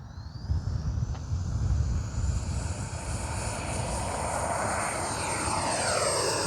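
An RC jet aircraft comes in on approach, producing a loud, steady turbine roar with a faint high whine on top, continuous and close throughout, no talk.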